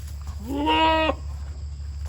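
A Dalmatian goat at a farm fence lets out a single clear, nasal bleat lasting about half a second, close by, over a low steady background hum.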